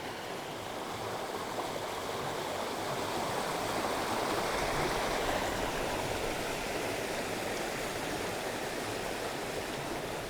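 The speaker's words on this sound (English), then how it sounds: "I'm standing next to a stream now and I bet it sounds fine." A flowing stream rushes steadily close by, a dense, even wash of water noise with no pauses and no voices.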